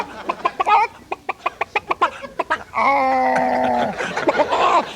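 A comedian vocally imitates a chicken, starting with a quick run of rhythmic clucks, then a long drawn-out squawking crow, then more clucks, loud and close.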